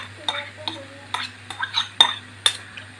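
A coconut, cumin and shallot mixture stirred into taro stems in a pan for a Kerala thoran, giving repeated scraping and clinking strokes of a spoon against the pan at an uneven rhythm, close and fairly clear over a low steady hum.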